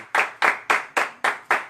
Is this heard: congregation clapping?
yes